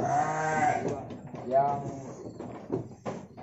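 Garut sheep bleat on a farm during a visit, several wavering bleats close by, with people talking throughout and faint background rustling.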